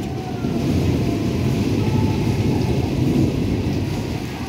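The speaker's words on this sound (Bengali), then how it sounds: "কত জোরে বিদ্যুৎ চমকাচ্ছে দেখ, পুরো জোরে বৃষ্টি পড়ছে।" Heavy rain during a thunderstorm at night with the power out, a continuous deep rumbling roar of downpour and thunder, steady and fairly loud with no voices.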